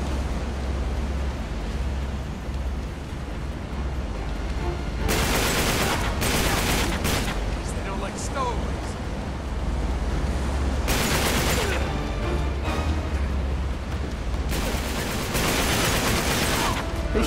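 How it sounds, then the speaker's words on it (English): Bursts of gunfire in Uncharted 3: Drake's Deception, loud rapid volleys in several clusters separated by quieter stretches of ambient noise. "Who's shooting me?"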